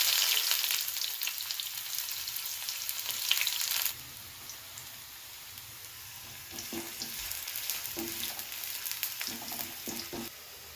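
Weaver ant eggs frying with mustard seeds and onion in hot oil, a loud crackling sizzle for the first few seconds that drops to a softer steady fizz with occasional light stirring clinks.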